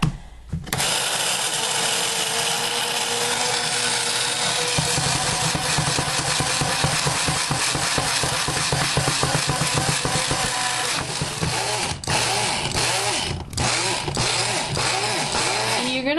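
An electric grinder pulverizes coffee with garlic, coriander seeds and brown sugar, a loud steady whirring that runs continuously, with the pitch shifting as the contents break down and brief pulses near the end.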